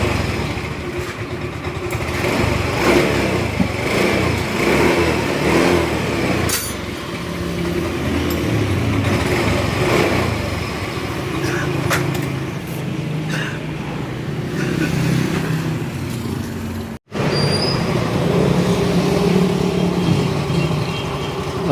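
A rebuilt Yamaha Mio 125 scooter engine runs close by at a steady idle with a rough mechanical clatter, holding constant for most of the stretch before a sharp momentary cutout and recovery.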